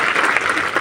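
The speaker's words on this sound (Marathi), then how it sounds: "त्यांचं सुद्धा एकदा टाळ्या वाजवून या ठिकाणी स्वागत केलं पाहिजे" A crowd at a farmers' and farm labourers' protest march applauding to welcome a guest; loud, dense, even clapping throughout a short burst.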